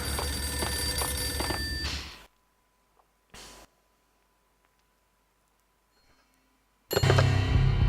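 A telephone rings in the Max Payne video game, a loud electronic ring at the start that stops abruptly, followed by near silence with one short burst, then ringing again at the end.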